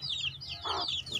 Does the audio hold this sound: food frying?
no